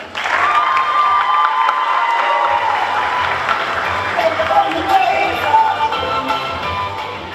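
A crowd at a high school JROTC military ball applauds and cheers loudly for the Duke and Duchess, with sustained clapping mixed with whoops and shouts.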